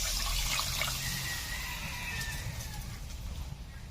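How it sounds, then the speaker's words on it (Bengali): Water poured into a pot of spiced egg curry cooking over heat, a steady close rush and splash that gradually settles into a softer bubbling hiss. "এখন দিয়ে দিচ্ছি পরিমাণ মতো জল।"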